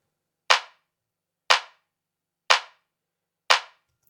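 Processed clap drum sample, pitched down with a short decay, struck four times at an even one-second pace, each a sharp dry snap that fades quickly into silence.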